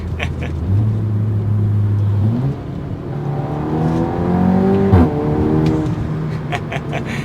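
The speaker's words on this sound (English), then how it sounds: "Turning the exhaust valve on, going into dynamic mode." A 2024 Audi RS3 engine revs up through its gears with the exhaust valve open in dynamic mode, the exhaust rising in pitch with a sharp pop midway, loud and close.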